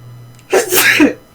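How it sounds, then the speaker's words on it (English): A single loud, close sneeze bursts out after a brief quiet moment. "I need to sneeze again."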